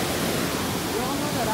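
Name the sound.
swollen Tinau river flowing after rain in Butwal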